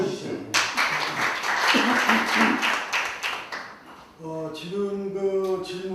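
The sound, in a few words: seminar audience applauding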